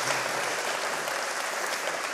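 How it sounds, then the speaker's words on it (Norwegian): Warm applause from a concert audience inside a church, a steady dense wash of clapping that holds evenly for a couple of seconds with no voices over it. "Varm applaus."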